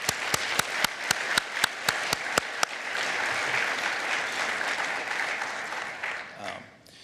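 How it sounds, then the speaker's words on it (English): At the opening of the 2016 IEEE Symposium on Security & Privacy, a few sharp, evenly spaced claps swell into a full audience round of applause for the organizing committee. The applause holds strong before tapering off near the end. "So a big round of applause to the organizing committee."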